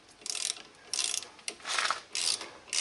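A ratchet clicks in short bursts, about five quick runs with pauses between them, as brake bolts are tightened on a 2012 Ford Escape during a front brake and rotor job. The clicks are close and crisp.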